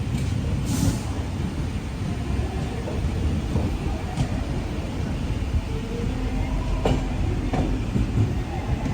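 A train pulls into Kozhikode railway station in the early morning: a steady, loud rumble of wheels and carriages with faint rail clatter and a few sharp squeals or clanks over the continuous roar.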